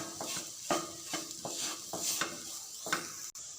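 Mashed boiled potatoes are stirred in a pan for ragda patties, with a series of soft, rhythmic scraping and clinking strokes of a spoon, quiet and close, without any talking.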